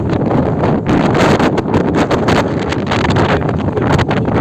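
Strong wind across a 7-acre fenced open plot of land buffets the microphone in a loud, continuous roar with gusty rumbling throughout.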